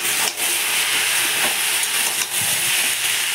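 Brinjal, potato and taro fry together in a pan, a loud steady sizzle and hiss with a few soft stirring knocks, no talk.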